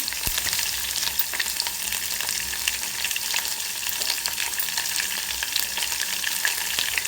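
Crushed garlic, dried red chilies and onions fry in oil for a cucumber dal, a loud, continuous, close crackling sizzle that holds steady throughout, with no one speaking.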